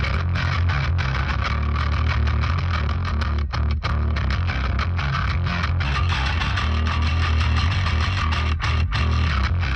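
Distorted bass guitar through a Bogren amp plugin on its own, a dense, gritty, continuous low-end tone played loudly with brief breaks between notes and no talking.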